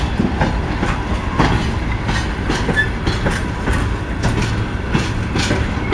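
A short freight train of railway wagons rolls past close by with steady rumbling and rhythmic clickety-clack of wheels over rail joints, no voices.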